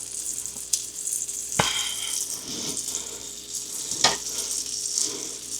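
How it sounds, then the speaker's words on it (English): Onions sautéing in beef tallow rendered from a ribeye fat cap, a steady sizzle and crackle with occasional sharp clinks and scrapes of a utensil against the pan. "Next I'm going to do is I'm going to saute the onions up"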